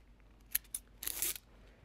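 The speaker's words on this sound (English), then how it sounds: "Now I'm going to cut this out" Scissors snip through a duct tape sticker in a quiet room, two quick separate snips followed by a longer crunchy cut, close and crisp with no talking.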